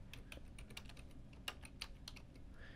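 Quiet typing on a computer keyboard, a quick irregular run of light key clicks with a couple of sharper taps, close and with no voice over it.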